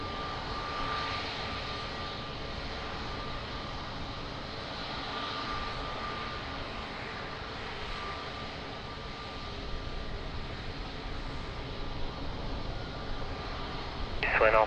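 Boeing 777 engines roar steadily at Lisbon Airport, a broad, even rumble heard from a distance that swells slightly toward the end, with no clear voices over it.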